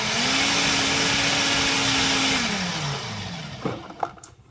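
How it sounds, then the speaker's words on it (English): A Ninja blender whirs loudly through pancake batter for about three seconds, its steady motor whine then winding down and stopping, followed by a few light clinks. "I'm gonna blend it up real quick. So it's gonna get loud for like a few seconds"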